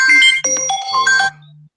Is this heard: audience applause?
no